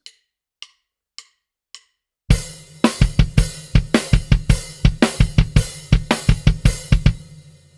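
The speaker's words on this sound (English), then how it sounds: "That's the hi-hat playing quarter notes, snare on 2 and 4" A few sparse clicks count in before a full drum kit enters, with a steady hi-hat on the quarter notes, backbeat snare hits on 2 and 4, and a swung kick drum in a tight, close-miked groove.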